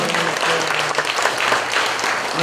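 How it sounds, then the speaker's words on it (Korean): A church congregation applauds at an installation thanksgiving service, steady dense clapping from many hands filling the room without pause. "박수 한번 쳐드리세요."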